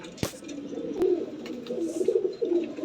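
Pigeons, including a pair of round fancy pigeons, give soft repeated coos close by, broken by a few sharp clicks and taps, with no talking.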